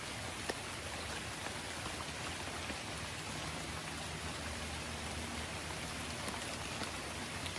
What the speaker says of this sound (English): Even though it's raining